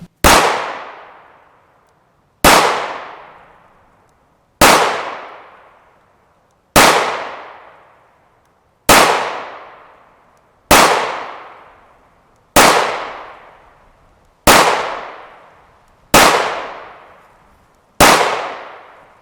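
A Ruger 5.7 pistol with a 5.5-inch barrel fires 5.7x28mm 40-grain Hornady Black VMAX rounds, nine sharp, loud shots spaced about two seconds apart, each with a short decaying echo, no voices.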